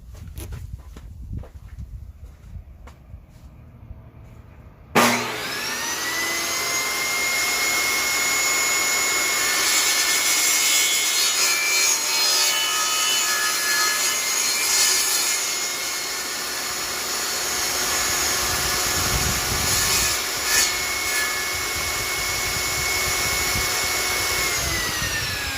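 A table saw running a sled through wood for coasters whines steadily for about twenty seconds after a sudden start, a loud, sustained blade roar with slight dips as the cut progresses.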